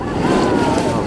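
Sea waves surge and splash against the rocks at Anjuna beach in Goa, a loud, continuous wash of water mixed with gusty wind rumble on the microphone.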